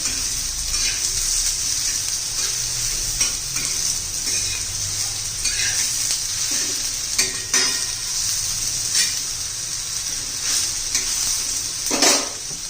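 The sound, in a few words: ridge gourd frying in oil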